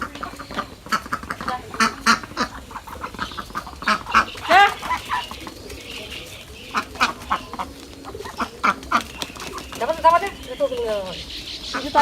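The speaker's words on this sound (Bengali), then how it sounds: "হাঁসগুলা জলে" Village ducks on the water in rural Bangladesh quack loudly in repeated bursts, nearby and clear, with people talking in between the calls.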